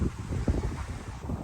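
Low, blustery wind buffets the microphone in uneven gusts, a steady rumbling roar outdoors with no voices.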